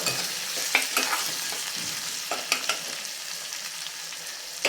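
Dried red chillies and onion sautéing in a pan for spicy aloo palak, a steady close sizzle broken by scraping stirs and small taps of a spatula.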